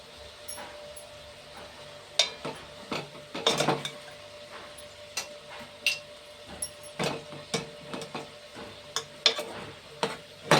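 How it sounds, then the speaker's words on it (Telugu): Brinjal pieces coated in masala are stirred in a frying pan, a spoon scraping and clinking against the metal in irregular bursts over a soft, steady sizzle, close by with no talking. "మంచిగా బ్రింజాల్ ముక్కలు కూడా మసాలా పట్టేలా కలుపుకోవాలి"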